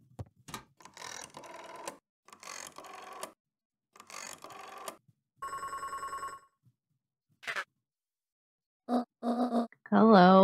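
A telephone rings in the Beacon Pines video game, a short burst of electronic ringing between stretches of game sounds and character vocalizations, fairly loud and close.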